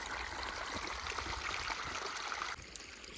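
A steady, close rush of water flowing from a bore well gushes continuously, dropping slightly in intensity near the end.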